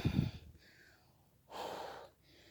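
Heavy, audible breaths, a sharp gasp then a long exhale, from someone winded after walking through the countryside while gathering mushrooms after rain, close and fairly quiet with no talking.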